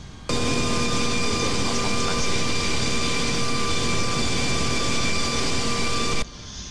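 Airbus A330-243 airliner taxiing in X-Plane 11, a steady loud jet engine whine with layered tonal hums holding evenly for about six seconds before cutting off.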